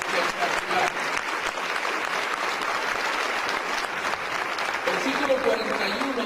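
A church congregation applauds during a Resurrection sermon, a dense, continuous round of clapping with voices mingled in, holding steady and fairly loud.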